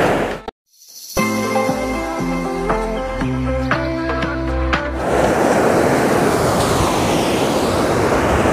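Sea waves at Benaulim Beach in Goa surge loudly and steadily for the last few seconds, after a burst of tonal music ends abruptly.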